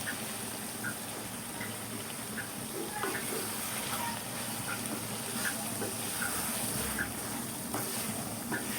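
Tomatoes going into a pan of frying chicken breast bhuna with chopped green chilies, giving a steady close sizzle and frying hiss with faint stirring clicks throughout.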